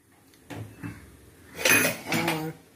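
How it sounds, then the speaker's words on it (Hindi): A pressure cooker holding chickpeas and water is set down on a gas stove, a few close metallic clanks and knocks of pot on burner, with some faint background voice. "इधर गैस ऑन करके कुकर को चढ़ा दिए हैं"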